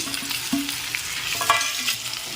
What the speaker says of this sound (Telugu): ఇప్పుడు ఉల్లగడ్డలు వేసేసి